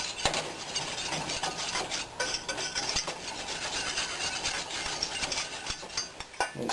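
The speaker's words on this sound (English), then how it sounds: "And you just stir it up like that." A spoon scrapes and stirs flour into calzone dough in a bowl, a close, soft rasping and rubbing with irregular strokes and light knocks against the bowl.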